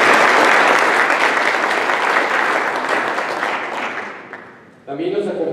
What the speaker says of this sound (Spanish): Les pido un aplauso para el profesor Neftalí.